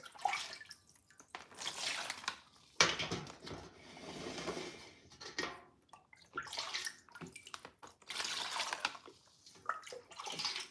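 Chicken broth poured into a freezer bag set inside a container, a steady liquid splashing and trickling stream with brief pauses and a few drips, close and alone.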